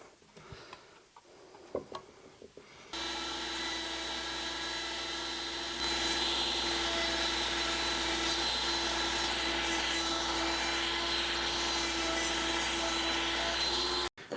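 Handheld router cutting grooves into wooden desk framing to hold copper pieces, a loud steady motor whine and cutting roar starting after a few quiet seconds of shop handling and continuing without a break.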